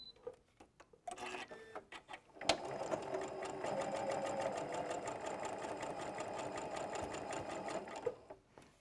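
A few soft handling clicks give way to a sewing machine running a zigzag stitch with a rolled hem foot, a steady close mechanical chatter lasting several seconds before it stops.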